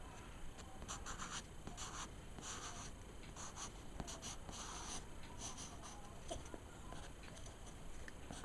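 Pencil sketching a Dead Space feeder necromorph on paper, a continuous soft scratchy rasp of graphite strokes with short repeated bursts, close and quiet throughout.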